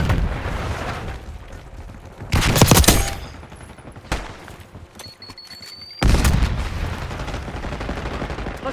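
Gunfire erupts in the shooter game Babylon, loud bursts of rapid shots in several clusters separated by quieter stretches, sharp and close with a rumbling tail.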